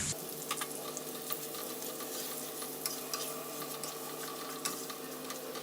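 Sliced onions fry in a pan with a steady, close sizzle, broken by soft scrapes and light clicks of stirring throughout, with no voices.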